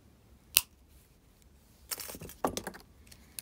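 Faint metallic snips and clicks from cutting wire ends while making a swan pendant, a single sharp snip followed by a cluster of small tool sounds a second later, close and quiet.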